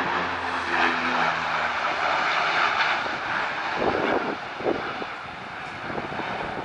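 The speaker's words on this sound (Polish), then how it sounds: "bo latają samoloty, nabierają wodę." Firefighting propeller airplanes drone overhead while scooping water, the engine roar swelling and fading as they pass, with no one talking.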